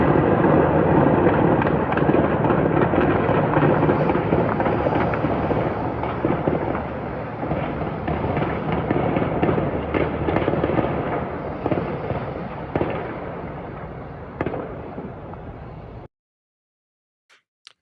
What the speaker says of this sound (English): it captures the sound of widespread gunfire and shelling